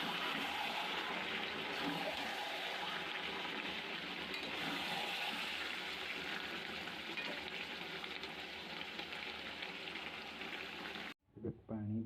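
Hot water poured into a pan of chicken and potato curry makes a loud, steady hiss and bubbling rush that runs close and unbroken for about eleven seconds, then cuts off abruptly.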